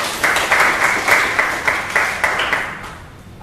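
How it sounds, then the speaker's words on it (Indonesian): A class of students claps together in a classroom, a lively burst of applause that swells and then fades over about three seconds. "Tepuk tangan untuk kelas kalian."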